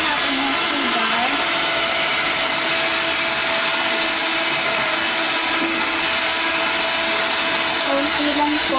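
An electric mixer beats eggs with sugar for a chiffon cake, giving a loud, continuous, high motor whine that holds steady from start to end.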